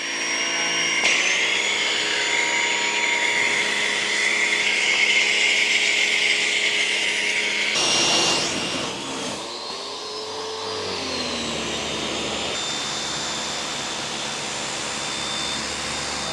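A Ryobi electric pressure washer runs with a steady, loud whining motor hum, briefly surging and changing pitch partway through before settling back into a continuous drone, alone without talk.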